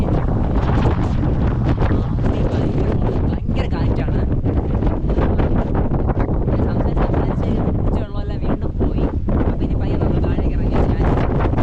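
Strong wind on a hilltop near Aralvaimozhi roars and buffets the microphone steadily, loud and close, with brief gusty dips and no clear speech.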